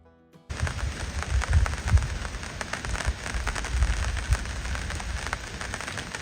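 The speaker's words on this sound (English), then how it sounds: "man, is this rain cool" Rain pattering steadily in woods after a sudden start, a dense hiss of drops with irregular heavier taps and thuds, close and fairly loud.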